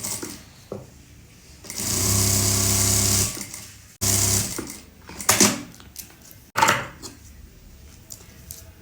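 A sewing machine runs a stitch through buckram laid on a velvet salwar hem, a steady mechanical whir lasting over a second, then a shorter run followed by rustling handling of fabric.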